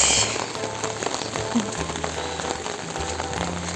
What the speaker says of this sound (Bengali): কি এত বৃষ্টি, বড় বিরক্তিকর। আর পাহাড়ের বৃষ্টি